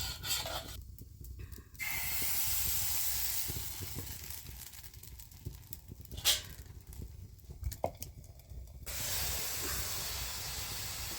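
Steam hisses and sputters close by as the last water cooks off under chitoi pitha, a steady breathy rush broken by brief quieter gaps and small crackles.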